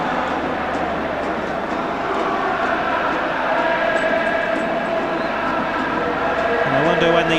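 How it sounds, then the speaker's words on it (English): Travelling Juventus supporters cheer and chant in a football stadium during a mid-1990s Serie A match away at Sampdoria, a dense, steady roar of the crowd that swells slightly toward the end, with commentary over it. "the noise you can hear now is coming from the travelling Juventus supporters"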